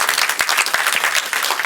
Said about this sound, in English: Claps for this man, please.